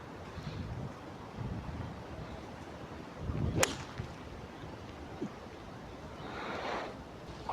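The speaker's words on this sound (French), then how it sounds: "il y a de plus en plus de vent" Gusty wind blowing across an open golf course, a steady airy rush that swells and fades, with one sharp whooshing gust near the middle and no voices.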